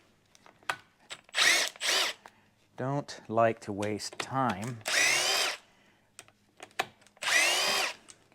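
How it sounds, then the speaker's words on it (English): Power tool on a Porsche 911 engine during a full teardown, working on the IMS cover bolts, giving several short bursts of whirring between bouts of someone talking close by. "If I can use a power tool,"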